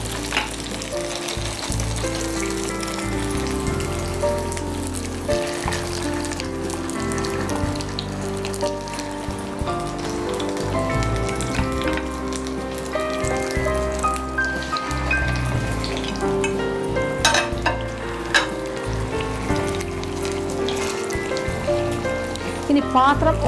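Pieces of karimeen, pearl spot fish, frying in hot oil, a dense continuous sizzle and crackle with occasional sharper pops, close and steady throughout.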